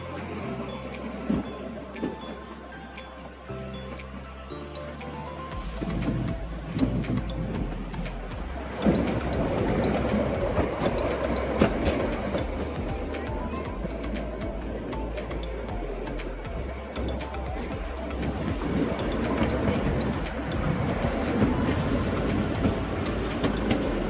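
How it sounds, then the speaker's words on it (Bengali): A toy train on the Kalka–Shimla mountain railway rumbles along the tracks with low, continuous roaring and rhythmic clatter of wheels, steady and fairly loud throughout, with no talk. "কি অসম্ভব সুন্দর লাগছে না এই ট্রেনটাকে এইভাবে যেতে দেখতে"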